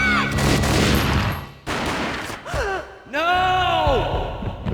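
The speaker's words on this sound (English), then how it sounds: "A gunshot boomed and she fell down in slow motion." A single booming gunshot effect in a dramatic scene, a loud burst followed by gasping, sighing vocal sounds and tonal swells, with no speech.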